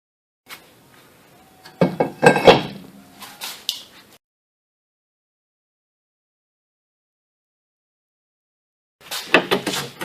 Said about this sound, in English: I'm going to hit it with a file.